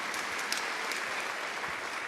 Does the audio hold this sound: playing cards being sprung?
no